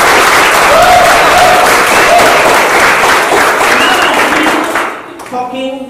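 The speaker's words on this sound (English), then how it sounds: "You give yourself the biggest round of applause" A business training audience in the Philippines bursts into loud, sustained applause that fills the room for about five seconds, with a few voices mixed in, then fades abruptly as the clapping stops.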